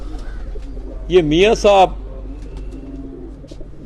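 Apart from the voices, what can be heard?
pigeons cooing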